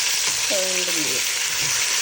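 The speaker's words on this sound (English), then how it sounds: "Remember, we're just browning the beef, not cooking it." Beef for a Jamaican stewed oxtail browns in a hot pan, giving a steady, close sizzle and fry with brief stirring scrapes.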